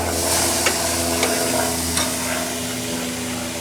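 Meat sizzles and crackles steadily on a hot outdoor barbecue grill, a loud continuous frying hiss up close with a few small pops.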